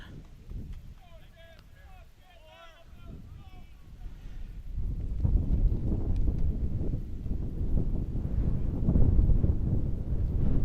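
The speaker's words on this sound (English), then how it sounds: "it is a little bit windy here. Last time I looked, it was a northeast wind at 18. You can hear that on our microphones" Gusty northeast wind at a baseball game buffets the microphone with low rumbling thumps that swell louder in the second half; faint voices and whistle-like tones are heard early on.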